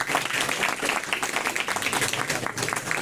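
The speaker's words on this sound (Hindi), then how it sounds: "एक बार इनके लिए तालियां बजा दें।" Audience applause at an event on the health impacts of air pollution: a steady, dense wash of hand claps lasting about three seconds, fairly even in level with no talk over it.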